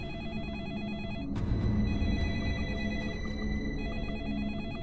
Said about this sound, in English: The phone call is coming from inside the office?